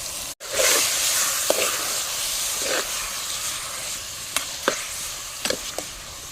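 Onion and tomato frying for a chicken dish on an outdoor stove, a steady soft sizzle and hiss with a few sharp scraping stirs and clicks scattered through, no voices.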